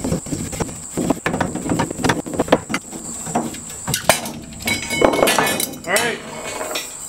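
Half-inch M-type copper pipe being cut: a run of sharp metallic clicks and clinks with some scraping, close by, mixed with a steady high whine and speech-like sounds.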